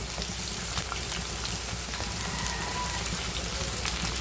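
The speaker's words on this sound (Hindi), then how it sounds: "अब इसमें हम ये सोयाबीन को भी अच्छे से फ्राई कर लेंगे।" Soybeans frying in hot oil in a home kitchen, a steady dense sizzle and crackle that runs evenly throughout with no talking.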